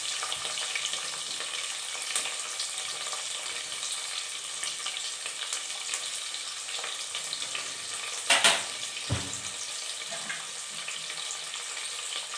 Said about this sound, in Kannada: ಈರುಳ್ಳಿಯನ್ನು ಒಂದು 3 ಮಿನಿಟ್ಸು ಮೀಡಿಯಮ್ ಫ್ಲೇಮಲ್ಲಿ ನೀಟಾಗಿ ಫ್ರೈ ಮಾಡ್ಕೊಳ್ಳಿ.